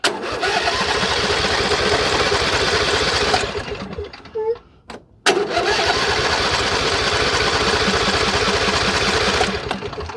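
An old project tractor's engine cranks over in a steady, rapid, loud chugging rhythm. It pauses for about a second with small clicks, then resumes cranking for several more seconds without catching.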